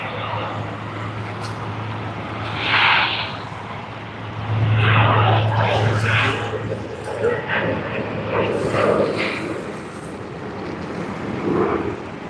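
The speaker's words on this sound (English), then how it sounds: "we have a Boeing 737 again coming in from the domestic terminal and then making its way to runway 34L for departure." A Boeing 737 taxis at Sydney Airport from the domestic terminal toward runway 34L for departure, its steady engine whine rising and falling in the middle distance with some wind noise on the microphone.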